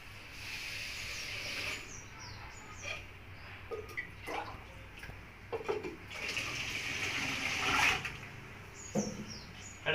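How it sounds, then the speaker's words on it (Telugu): Rice is washed in water in a pot at home, with close splashing and swishing that swells and fades in uneven bursts, louder near the end. "బియ్యం కడిగేసి"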